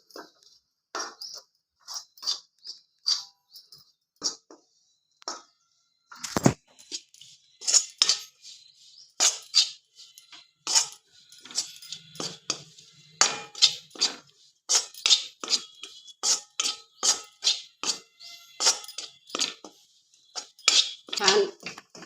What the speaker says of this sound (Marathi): ही कणिक आता छान तेलावरती आपल्याला भाजून घ्यायची आहे